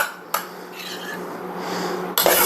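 A spoon scrapes and clinks against a pan while simmered tomato sauce is spooned in to coat the bottom, two sharp metallic knocks framing a soft wet scraping, close and alone.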